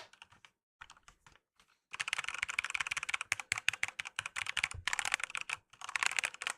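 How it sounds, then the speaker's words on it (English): Loud mechanical computer keyboard typing in rapid, dense bursts, a few sparse keystrokes first, then sustained fast clattering with short pauses, close and alone. "Louder the keyboard, the bigger the nerd."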